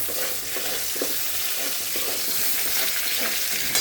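Spices for a duck egg curry with olives and potatoes sizzle and fry steadily in a pan, a continuous close hiss of hot oil with faint stirring scrapes throughout, no voices.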